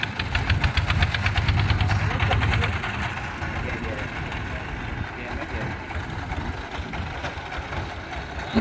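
A low, steady boat engine chugs and idles throughout, louder in the first few seconds, with faint voices in the background, during a search near Tra On.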